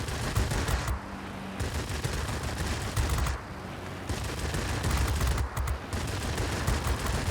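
Aircraft machine guns hammer in sustained rapid bursts from a Bf 109 F fighter in World of Warplanes, loud and continuous with brief pauses between volleys over the engine drone.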